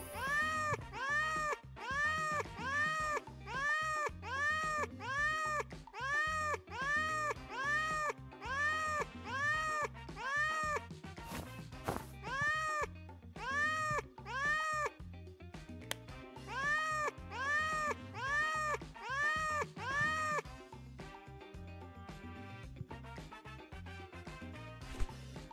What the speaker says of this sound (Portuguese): eu tenho um gatinho.